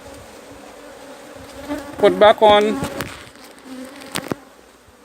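Honey bees buzz steadily around an opened beehive being split, a close, continuous drone with a brief voice speaking in the middle and a sharp click near the end.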